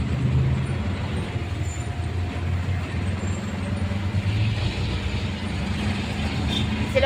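Busy city traffic in Quezon City, with buses and other vehicles rumbling steadily close by and brief hissing bursts of air brakes now and then, an unbroken loud roadway din with faint voices mixed in.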